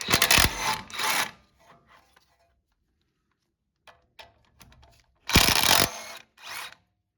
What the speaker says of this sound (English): Remove the two 17mm head bolts holding the caliper to the knuckle.